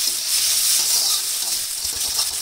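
Loud, close hissing sizzle of potatoes frying in a pan, a continuous bright crackle with faint stirring or scraping underneath.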